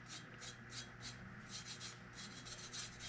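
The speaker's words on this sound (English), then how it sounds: "I always rub where I have the glitter on the double-sided tape" Glitter being rubbed by hand onto double-sided tape wrapped around a tumbler: a close, steady series of quick scratchy rubbing strokes, roughly three per second, repeating in an even rhythm with no voices.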